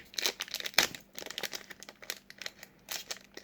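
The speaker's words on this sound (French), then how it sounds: "Ils sont durs un peu à craquer, ces boosters là" Stiff foil wrappers of Pokémon booster packs crinkle and tear as they are opened, with close, bright crackling bursts and rustling throughout, including one louder rip near the start.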